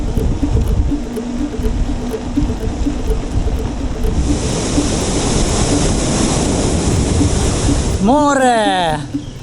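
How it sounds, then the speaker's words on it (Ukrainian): Sea waves at a coast in Thailand, a steady broadband wash of surf with wind noise throughout; a voice calls out briefly near the end over the surge. "Море! Ми побачили море."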